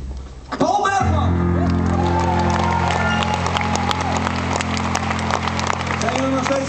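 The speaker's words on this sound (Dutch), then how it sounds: "Grote applaus voor Paul Bergman!" Loud crowd applause and cheering fill a large live show venue after a host introduces a performer from Leeuwarden, sustained and dense throughout with music tones swelling beneath.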